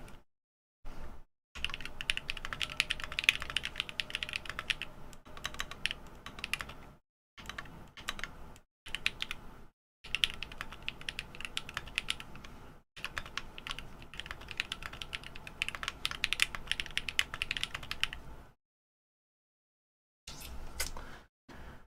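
Rapid typing on a Neo Ergo mechanical keyboard, dense clacky keystrokes close to the microphone in bursts broken by short pauses, no talk.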